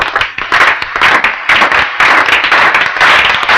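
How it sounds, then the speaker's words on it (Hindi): Loud, steady applause from a group of people, dense rapid hand claps filling the whole stretch with no gaps. "वेल डन, तालियां होनी चाहिए यार"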